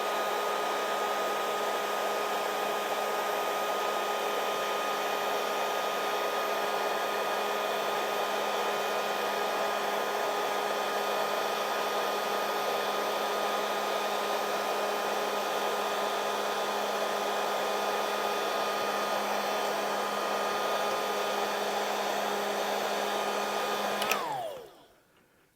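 Heat gun shrinking heat-shrink tubing over a cable connection, a steady loud blowing whir with a constant tone that holds unbroken for over twenty seconds, then winds down abruptly as it is switched off.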